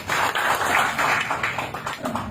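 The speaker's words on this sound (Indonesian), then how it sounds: "Tepuk tangan untuk rekan-rekan." An audience applauds at a small gathering, a steady patter of many hands clapping close by, moderately loud and unbroken for a couple of seconds.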